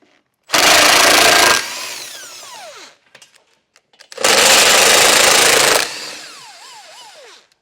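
A power tool with a 15mm socket backs out bumper bolts during a trailer hitch install, in two loud, close bursts of whirring, each winding down with a falling whine and separated by a brief pause.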